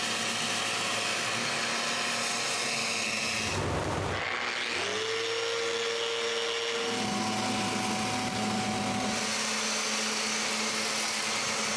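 A power sander works wooden patio bench parts in a few bursts, a rough hiss with a rising whine partway through, fairly quiet and separated by brief pauses.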